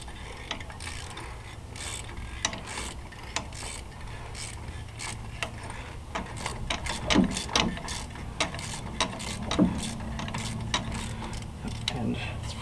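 A hand ratchet with a 15mm socket works on the front knuckle bolts of a 1999–2007 GM truck, giving repeated close metallic clicking and ratcheting strokes. A few sharper clunks stand out over steady shop background noise.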